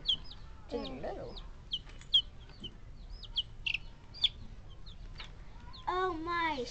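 Chicken clucking in a Chicken Little story: a run of short, scattered clucks and chirps over a quiet background, with a brief voice near the end.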